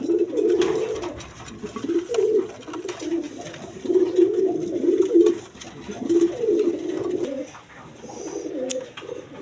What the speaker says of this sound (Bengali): রেড কালার বোম্বাই কবুতর, ইন্ডিয়ান বোম্বাই।